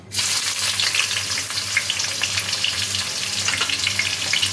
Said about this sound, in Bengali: এবার ওই রসুনের গন্ধওয়ালা তেলেই বাকি রান্নাটুকু করব। এই তেলের মধ্যে দিয়ে দিচ্ছি পেঁয়াজ কুচি।